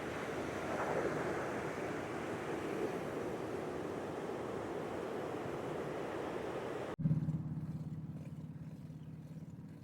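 Ocean surf rolls steadily beside a long oceanfront boardwalk at the River to Sea Preserve in Marineland, a broad wash of waves mixed with wind buffeting the microphone, then abruptly dropping to a lower, quieter rumble.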